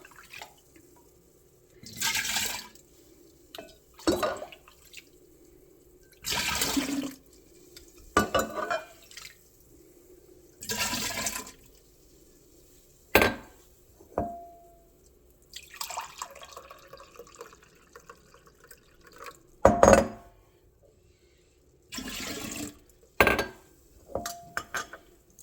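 Brewed tea divided and poured from Pyrex into gallon containers, in repeated short splashing pours separated by pauses, with clinks of glass and handling sounds, close and clear, with no talking.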